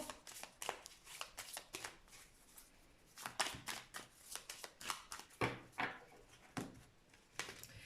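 Petit Lenormand oracle cards are shuffled by hand, a run of quick papery riffles and flicks in uneven bursts, close and fairly quiet with no talking.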